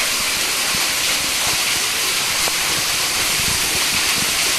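A waterfall heard from directly behind its falling sheet, beside a rock temple in rugged terrain; continuous broadband roar and hiss of crashing water, close and unbroken, with faint scattered splashes.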